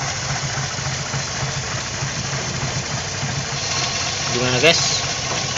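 Classic car engine idling steadily at close range, a low continuous rumble with slight roughness, while someone speaks briefly over it.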